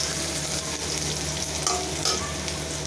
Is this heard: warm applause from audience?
no